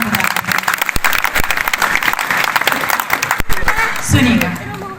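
A crowd in an audience hall at a large poetry gathering clapping loudly in a dense burst of applause, with individual sharp claps standing out, then tapering as a voice begins speaking at the end.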